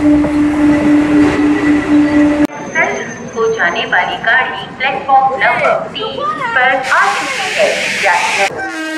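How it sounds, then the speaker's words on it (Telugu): A MEMU express train runs from Bitragunta to Chennai Central, with a steady rumble and hum from inside the coach. After a couple of seconds people talk over the continuing rail noise. "మన ట్రైన్ అయితే ఓవర్టేక్ చేస్తుందండి, మీకు కనిపిస్తుందండి."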